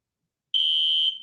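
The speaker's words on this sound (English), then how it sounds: "I have the fire alarm has just gone off" A fire alarm sounds in a radio studio: one steady, shrill electronic tone that holds loud for about half a second, then cuts off, with nothing else around it.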